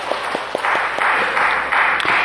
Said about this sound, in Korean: 영광의 박수를 주님께 돌리십시다.